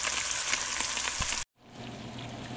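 Croaker fish sears in a very hot pan with blackening seasoning, a dense, steady hiss of sizzling close up that cuts out abruptly and then resumes more quietly.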